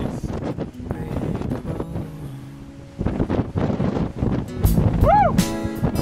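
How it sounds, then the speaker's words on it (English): Gusty wind buffets the microphone on an exposed summit of Tasmania's South Coast Track, loud rumbling bursts that rise and fall, with a person talking and a whoop near the end. "Bit windy though"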